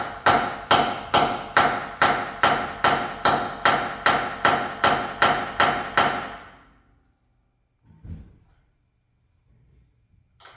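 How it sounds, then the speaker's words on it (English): About sixteen sharp, ringing metallic hammer strikes on an AR500 steel bracket for a custom sway bar mount land in a fast, even rhythm, then stop, followed by a couple of faint thuds. "So we'll hit it a couple times with a hammer here"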